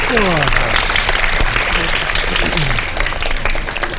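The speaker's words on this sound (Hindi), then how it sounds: "आप लोग सबके लिए तालियां बजा दें हमारे स्पॉन्सर्स के लिए।" Studio audience applause for sponsors during a televised Ramadan iftar show, loud sustained clapping from the crowd with some voices and sliding tones mixed in.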